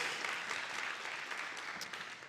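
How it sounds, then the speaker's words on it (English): A conference audience claps steadily for someone upstairs, a dense, even wash of applause heard from a distance with no voices. "Can we get a round of applause for the person upstairs?"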